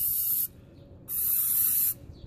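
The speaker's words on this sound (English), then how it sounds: "I'm gonna spray that all down." Two long, loud bursts of aerosol spray hit the exhaust of a 2001 Honda Civic EX being prepared for a motor swap, each hiss lasting close to a second with a brief quiet gap between them.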